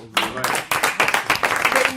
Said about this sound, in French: C'est normal que le groupe l'applaudisse